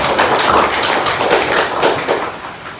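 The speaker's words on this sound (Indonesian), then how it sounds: "Kasih aplaus untuk kelompok 1" Schoolchildren in a primary classroom clap for a group that has just presented, a dense, steady patter of many hands, loud and close, lasting a few seconds with no talk over it.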